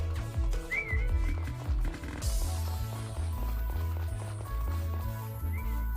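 Horse hooves clip-clop in the Story of Seasons: Friends of Mineral Town video game, a quick rhythmic trot set against cheerful background game music, with a brief whistle-like tone.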